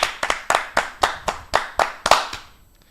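Steady hand clapping during a sports reaction livestream, about ten close, crisp claps in an even rhythm, loud and alone with no talk.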